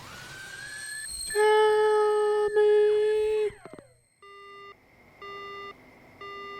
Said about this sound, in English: The line goes dead.